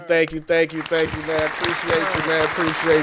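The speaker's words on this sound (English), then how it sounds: "So round of applause for the homie Ashley" Applause for a guest joining a sports talk show: a group claps in a dense, steady patter from start to end while someone speaks over it.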